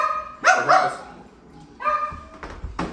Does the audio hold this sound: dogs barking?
yes